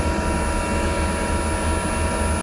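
A Planar 44D diesel air heater runs aboard a sailboat with a steady, loud droning roar and a constant high whine, unbroken until it cuts off abruptly at the end.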